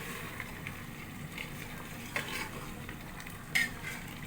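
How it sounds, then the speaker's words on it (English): Mutton curry being stirred in a pan, a steady low sizzle and scraping with a couple of brief louder clinks of the spoon against the pan, no talking. "we give it a stir"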